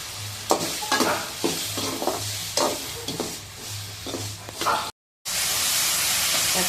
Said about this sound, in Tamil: கொஞ்சம் உப்பு போட்டு வணக்கலாம்.